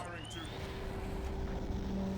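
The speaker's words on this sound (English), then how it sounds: "Torpedo in the water." A submarine torpedo launches in the video game Silent Hunter 4, opening with a brief rising whine and settling into a steady, close churning rush of water and motor noise.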